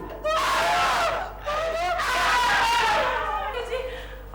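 A person screams in a comedy scene, long loud wailing cries that break briefly and resume, rising and falling in pitch, with some laughter or gasping mixed in.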